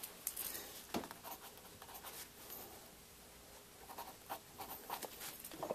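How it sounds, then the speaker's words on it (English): A pen scratching a number onto paper while measuring a gun handle recess: faint, close, irregular scribbling strokes in a quiet room. "I'm going to write that down."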